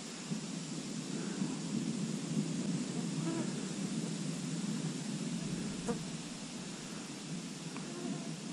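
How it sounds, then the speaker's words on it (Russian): Steady heavy rain pours down during a thunderstorm at a lake, a dense continuous hiss throughout with a faint low rumble and a few scattered knocks, no clear thunderclap standing out. "пока делать нечего на озере, он льет и гроза"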